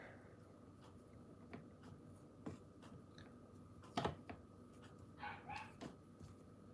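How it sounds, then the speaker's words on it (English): A new puppy left alone indoors barks a few times from a distance, with short, faint yips scattered over a quiet room hum. "That's the new puppy barking."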